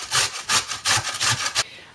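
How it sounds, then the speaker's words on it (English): Raw potatoes, skin on, rubbed against a box grater in quick rasping strokes, about seven close, fairly loud scrapes in a steady rhythm before stopping. "So hold your potato firmly and grate all of your potatoes"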